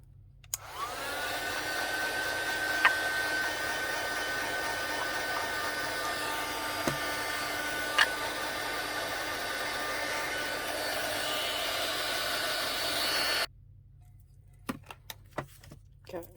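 A hair dryer blows steady and loud across a junk journal page to dry wet ink, running continuously for about thirteen seconds before cutting off abruptly, followed by a few light taps and handling noises.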